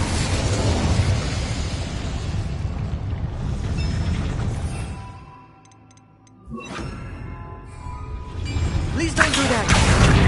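Incendiary fire spell blasts in Hogwarts Legacy, with loud crackling, booming bursts that fade into a short lull before fresh fiery pops and roars return, with a voice talking over them.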